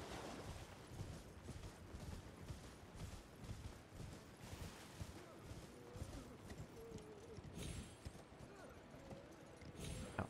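Horse hooves clip-clopping in a steady rhythmic gait while riding through the video game Elden Ring, mixed with ambient game sounds, with occasional speech-like sounds.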